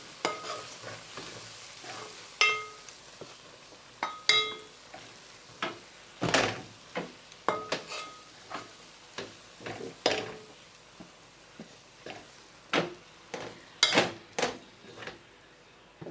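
A spoon stirs gram flour into a sizzling stuffing mixture for stuffed karela, with quick, irregular scrapes and taps against the pan over a soft frying hiss. Close by and moderately quiet, with no talk.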